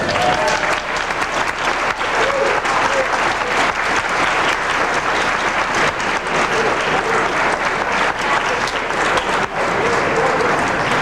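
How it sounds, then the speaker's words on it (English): Guests at a 1991 high school class reunion at a marina burst into long, loud applause, a thick, continuous clatter of many hands lasting over ten seconds with a few scattered voices underneath. "I think they deserve a lot of applause"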